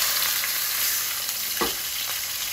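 Sirloin steak sears in a hot pan, a steady close sizzle and crackle throughout with a brief scrape or stir midway, no voices.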